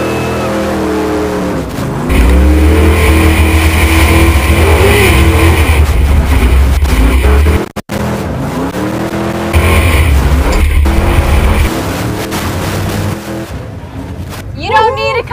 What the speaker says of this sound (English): We build big motors and make a lot of noise and go through the mud.